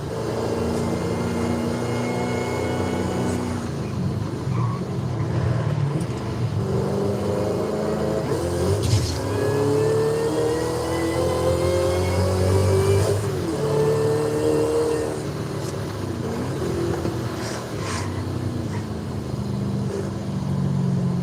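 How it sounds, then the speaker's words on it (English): A revving supercharged V8 engine in the video game Forza Horizon 5, with a high, rising supercharger whine over a deep rumble, loud and continuous, the pitch sweeping up and down as it accelerates. "Has that signature supercharger whine that we're after. Sounds like there's actually a V8 under the hood."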